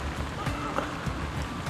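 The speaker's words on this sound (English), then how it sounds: "it's really raining now" Steady rain falls at a carp fishing lake, making a dense, continuous hiss of drops on water and ground with a few brief knocks mixed in.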